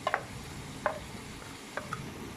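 A spoon stirs chili powder, turmeric, salt and masala into karahi meat in a pan, making a few soft, scattered scrapes and clinks over a quiet background.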